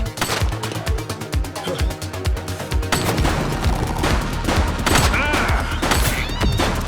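Police gunfire in the video game The Precinct: loud, rapid volleys of shots in a dense rhythmic burst, shifting into continued crackling fire and impacts with layered action noise throughout.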